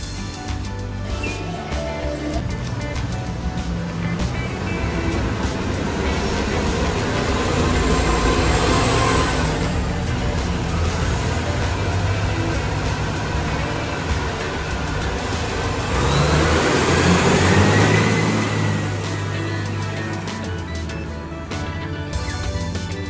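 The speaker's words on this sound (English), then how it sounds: "Bus." A large road vehicle rumbles past at the Peterborough Lift Lock, a broad engine roar that swells twice as it nears and fades, set against steady outdoor background noise with no talk.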